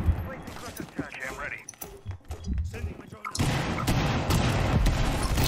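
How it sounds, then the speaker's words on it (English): A flashbang grenade goes off in Rainbow Six Siege, a sudden loud burst followed by a sustained ringing wash of noise, with scattered game sounds and voices talking before it. "Wait, I have a flashbang ready."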